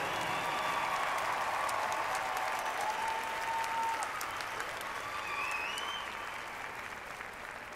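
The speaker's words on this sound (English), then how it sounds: "Let's give a big round of applause to all of our Flight 3 participants." A stadium crowd applauds marching band participants at a state finals competition, broad sustained clapping with a few cheers and whistles, tapering slightly toward the end.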